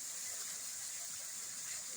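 Water gushes from a borewell motor pump's pipe into a well, a steady, even rushing hiss heard faintly at a distance with no talking.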